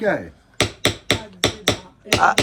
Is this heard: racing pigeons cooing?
no